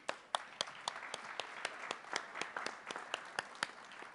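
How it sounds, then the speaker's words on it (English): An audience gives steady applause with many separate, distinct hand claps. It sounds fairly faint and distant in a hall, and no voices are heard over it. "let's give them a round of applause"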